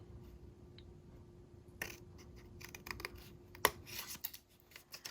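Scissors make a deep angled cut through folded paper for a pop-up cube gift box. After a near-silent start, crisp snips and rustles come in quick irregular bursts, close and fairly quiet, with no talking.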